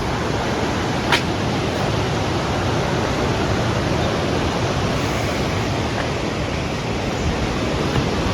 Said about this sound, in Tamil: இதில் தண்ணி ஓடுது. இங்கே வேறு எனக்கு சவுண்டு கேட்குது.